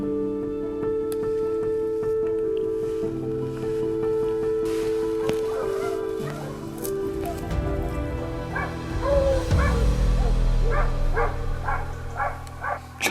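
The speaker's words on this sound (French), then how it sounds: "Il y a 2 chiens aux fermes, il y a un 3e chien qui arrive." Hunting dogs hold a wild boar at bay during a driven hunt, two dogs yelping and barking about fifty metres ahead with a third arriving, the barks growing denser and louder toward the end amid rustling.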